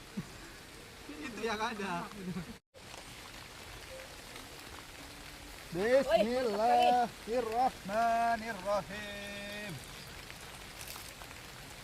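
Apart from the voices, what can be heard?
rain falling while camping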